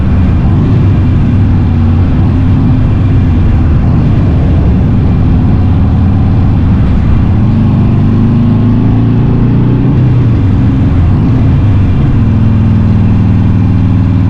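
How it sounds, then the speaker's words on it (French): Harley-Davidson Iron 883 motorcycle engine and exhaust rumbling steadily inside a tunnel, a loud, close, continuous low drone with the revs swelling and easing. "Je vous laisse écouter le bruit de la moto dans les tunnels."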